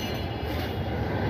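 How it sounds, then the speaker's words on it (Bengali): A metro train rolls past Agargaon station, a steady, dense rumble of wheels on rails that holds at an even loudness through the whole moment. "এই যে মেট্রো রেল যাচ্ছে।"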